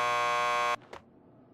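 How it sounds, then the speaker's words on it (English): A door buzzer in Max Payne 2 sounds one steady, loud electronic buzz lasting under a second and cuts off sharply, followed by a faint click and quiet room tone. "Just press the buzzer by the door. Petersburg will buzz you in."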